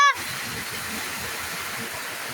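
Steady, loud rush of heavy rain fills the scene, a dense hissing downpour with a brief tonal blip at the very start.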